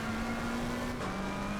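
Race car engine in the video game Assetto Corsa Competizione holding a steady droning note, then dropping slightly in pitch as if shifting, close and continuous with no talk.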